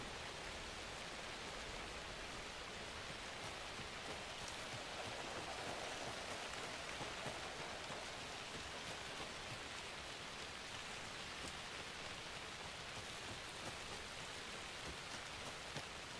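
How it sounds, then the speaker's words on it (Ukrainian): Steady rain falls in Alan Wake 2, a faint, even hiss of drops on surfaces that continues unbroken throughout. "І цей дощ іде."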